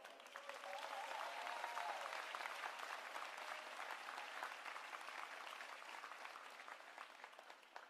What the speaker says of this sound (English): Birmingham City Schools deserves their own round of applause